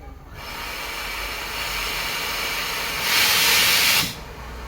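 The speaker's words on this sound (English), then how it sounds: "this locomotive is one of the oldest regularly running steam locomotives in the world" A Fletcher Jennings-built steam locomotive on the Talyllyn Railway, one of the oldest regularly running in the world, hisses steadily, then gives a louder, brighter blast of escaping steam for about a second before settling back.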